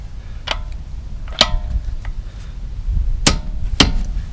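Sharp clicks from a Craftsman Digitork 44597 digital torque wrench being checked against a Snap-on wrench, with several crisp, separated ticks and clacks at close range, a couple more prominent than the rest, over low background rumble.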